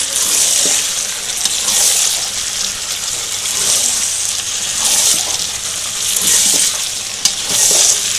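Mutton with tomato and salt being stir-fried in a pan for a wedding-style mutton curry with potatoes, giving a steady loud sizzle with rhythmic swells of stirring throughout, no voices.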